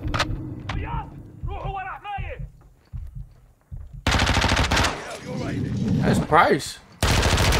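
Rapid bursts of automatic machine-gun fire from Call of Duty: Modern Warfare 2 on PS5, loud and dense in the second half, with voices talking over the earlier stretch.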